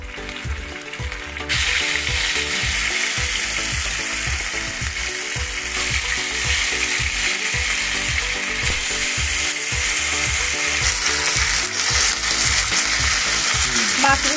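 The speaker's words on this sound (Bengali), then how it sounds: "এবার আস্তে আস্তে আমি মাছগুলো ছাড়বো" Katla fish pieces dropped into a wok of hot oil, erupting into a loud, sustained sizzle after a quieter opening moment, with faint scraping and stirring clatter running beneath the crackle.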